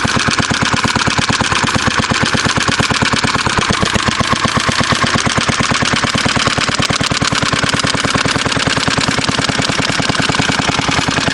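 A Fairbanks Morse Z/D stationary engine, warming up and not quite running right, chugs steadily with rapid, evenly spaced loud firing pulses throughout, close and alone.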